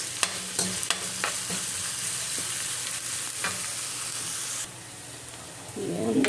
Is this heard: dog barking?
no